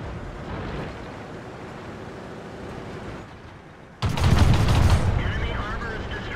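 Tank gunfire in a World War II video game match on the Siegfried Line map, featuring a Luchs light tank: a sudden loud blast midway with rumbling aftermath over steady engine and battle noise, with a commentator talking.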